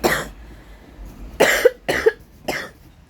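A person with an itchy, irritated throat coughs: one harsh cough, a pause, then three more spaced bursts, close and loud in a quiet room.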